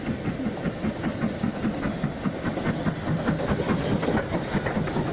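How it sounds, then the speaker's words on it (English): A goods train rumbles steadily along the rails at night, with a continuous low drone and a regular clickety-clack of wheels over rail joints throughout. "With a push from Caitlyn, the goods were soon on their way, rumbling into the night."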